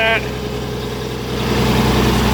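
An M936 truck's drive shaft spins while the engine runs, producing a loud, steady, low mechanical drone with a brief higher whine at the start and a slight swell near the end.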